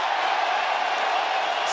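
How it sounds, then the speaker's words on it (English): A large crowd at a UFC fight cheers and roars in a steady, dense wash of voices, loud and continuous throughout. "crowd voicing its appreciation"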